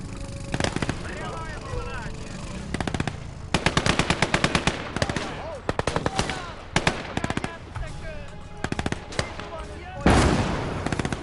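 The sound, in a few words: machine gun fire in video game Call to Arms: Gates of Hell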